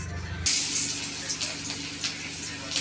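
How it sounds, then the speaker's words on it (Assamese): A kitchen tap runs steadily as meat is washed under it, giving a continuous splashing gush with small clatters of handling. "মাংস ধোৱাত লাগি আছে"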